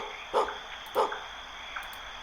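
A dog in the video game Love Esquire gives two clear, close barks about half a second apart, followed by a fainter third yip, over a steady background music tone.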